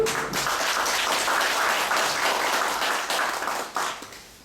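An audience applauds at a construction company union's officer election policy debate, a loud, close burst of dense clapping that tapers off near the end.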